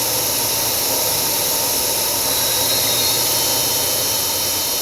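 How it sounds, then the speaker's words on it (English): A CNC machine spindle runs through its warm-up in a woodworking shop, producing a loud, unbroken high whine with a steady airy rush beneath it and no speech. "Now that spindle's just going to run. I'm going to warm up the spindle. It's literally running."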